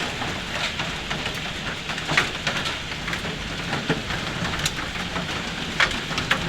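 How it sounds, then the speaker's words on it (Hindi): Heavy hailstones keep falling in a street in a storm, a continuous loud rattle of scattered sharp impacts over a broad rushing wash, with no talking. "मुसलसल ओले पड़ रहे हैं,"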